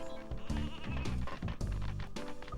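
Sheep bleat repeatedly in the Nintendo 64 game Space Station Silicon Valley, several nasal cartoonish calls overlapping with game sound effects and busy background music.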